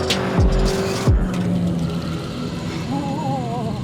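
A 2018 Renault Megane RS Cup accelerates hard on a race track, its loud engine note climbing through quick gear changes with a brief tyre squeal, heard close from the cabin.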